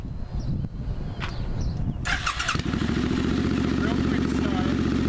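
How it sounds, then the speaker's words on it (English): A 2006 Suzuki Boulevard C50 motorcycle fitted with a Cobra exhaust cranks briefly and fires up, then settles into a loud, steady, throbbing idle close by. "we're going to go ahead and start the bike at this point just so you can hear it"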